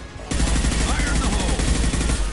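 Mass Effect 2 combat with sustained rapid gunfire, a dense continuous rattle of shots that starts abruptly and stays loud throughout.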